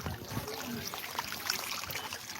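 Water runs and trickles in a village stream at Nossam in Kadapa, where children and adults swim, giving a continuous close babble and gurgle with faint background voices.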